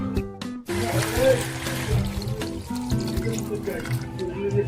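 Water pours steadily into a cooking pot holding ginger-garlic paste, a continuous splashing trickle heard close by with a voice talking over it.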